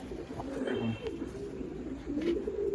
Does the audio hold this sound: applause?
no